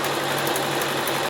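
A sewing machine stitches a flannel baby blanket with a steady, close whirring hum that keeps going without a break for the whole moment.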